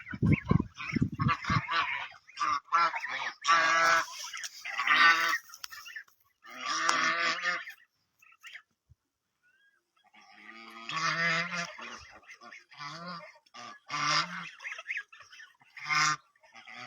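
Village ducks call near water in repeated bursts of loud, nasal quacking, with a brief quiet pause midway before the calls resume, clear and fairly close.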